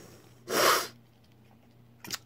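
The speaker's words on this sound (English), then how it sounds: "I've had a big sneezing fit." A single sharp sneeze bursts out close to the mic, followed a moment later by a quick sniff, with near silence between.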